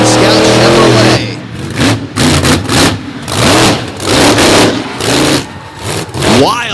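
The American Scout Chevrolet monster truck's engine, at a freestyle event on a dusty track, revs loudly and repeatedly, each rise and fall of pitch cutting in and out close by.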